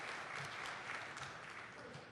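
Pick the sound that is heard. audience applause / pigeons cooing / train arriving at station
audience applause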